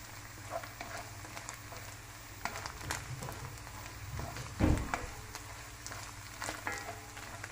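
Macaroni frying in a pan gives a soft, steady sizzle with occasional stirring scrapes and one louder clatter midway, close and fairly quiet.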